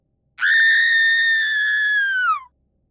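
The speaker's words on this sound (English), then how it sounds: "Then came the screaming." A single loud, high-pitched scream rises abruptly, holds steadily for about two seconds, then falls away and cuts off, with a clean, synthetic horror sound-effect quality and silence on either side.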